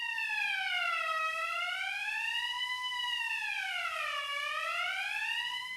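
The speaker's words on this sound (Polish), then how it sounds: "I wreszcie sygnał alarmowy, który uruchamia się po wybiciu szybki czerwonym przyciskiem." A copper mine alarm siren, set off by a red button behind glass, wails steadily, its pitch sweeping slowly up and down in long cycles, loud and continuous with nothing else audible.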